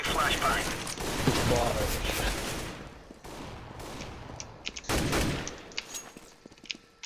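Gunfire in CS:GO competitive play on Mirage, rapid bursts of shots clustered early, then scattered sharp reports and clicks, with players shouting over it.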